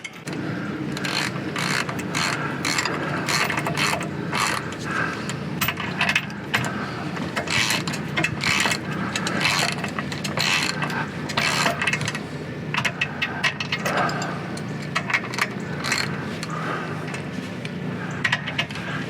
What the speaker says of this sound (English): Now all I got to do is tighten up all these shock bolts.